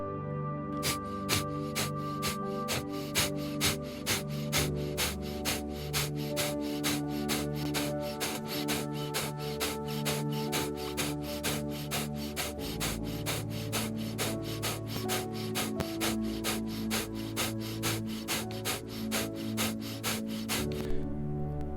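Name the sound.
repeated sharp forced exhales, Kapalbhati breathing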